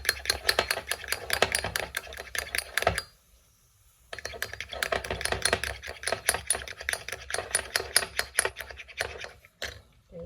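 Coffee rises and sputters in a moka pot on the stove, a dense crackling, bubbling patter that pauses for about a second and then resumes, close and fairly soft.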